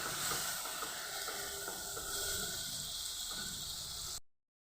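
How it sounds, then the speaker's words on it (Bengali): A steady, moderately quiet sizzling hiss of onion paste frying in oil, continuous throughout before cutting off abruptly. "পেঁয়াজ বাটা দিয়ে ভালোভাবে পেঁয়াজটাকে আমি ভেজে নেব"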